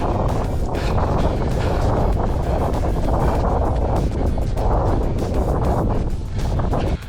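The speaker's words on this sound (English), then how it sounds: "it's so windy today" Strong wind roars across an outdoor microphone while someone walks, a loud, constant buffeting rush that lasts the whole stretch with no clear speech.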